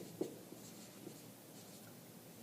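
A marker or chalk writes on a board during an algebra lesson on absolute value inequalities, with faint soft strokes and a couple of light taps in a quiet room.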